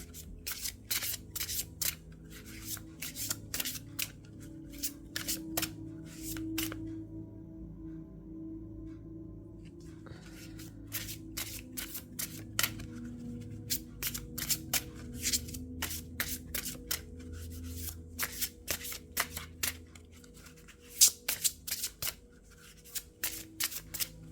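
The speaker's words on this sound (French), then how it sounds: "Alors, on va mélanger, on va tirer une petite carte ensemble." A deck of 40 oracle cards is shuffled by hand, close and fairly quiet, in runs of crisp riffling flicks broken by brief pauses, with no speech.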